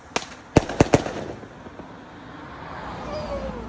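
Fireworks at a Bonfire Night display, several sharp bangs in quick succession early on, then a fading rumble and faint wind as the bursts trail off, heard at a distance outdoors.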